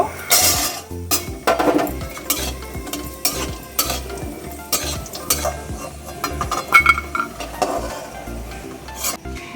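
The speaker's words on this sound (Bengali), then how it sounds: "তেল দেবো, সর্ষের তেল ঢেলে দিলাম। বড়িগুলো ভেজে নেব।" Bori lentil dumplings fry in mustard oil while a spoon stirs and scrapes the pan. Repeated metallic clinks and knocks ride over a steady sizzle, close and fairly loud, with no speech.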